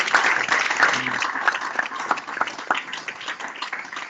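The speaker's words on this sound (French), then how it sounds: "On acclame très fort pour la gloire de Dieu." A church congregation applauds loudly for several seconds, a dense steady wash of clapping from many hands that tapers slightly toward the end.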